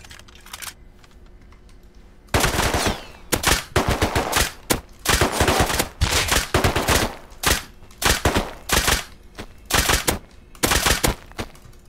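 Gunfire in the survival game Rust, rapid bursts of close, loud shots in repeated clusters after a quiet start.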